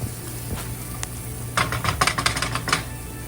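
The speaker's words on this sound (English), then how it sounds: "We're going to saute all of these ingredients together." Shrimp, omelette fillings and vegetables being sautéed together in a pan, a low hum at first, then a burst of sharp crackles and spatters as the mix is stirred.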